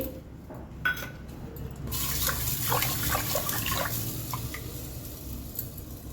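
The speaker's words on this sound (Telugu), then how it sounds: "ఒక గిన్నెలో వాటర్ తీసుకొని" Water pours in a steady, moderately quiet stream into a kitchen bowl, starting after a couple of seconds of low background hum and a few small knocks.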